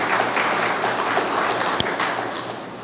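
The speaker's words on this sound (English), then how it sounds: "please, a round of applause." At an award ceremony for the Perry Centre award for hemispheric defense studies, the audience applauds with an even, sustained wash of clapping from a large room and one sharper clap near the end.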